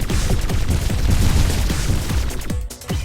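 Rapid, continuous shots from a ship's primary weapon in the arcade shooter Syder Arcade, a dense rattling fusillade with thudding low booms, loud and close, easing briefly near the end.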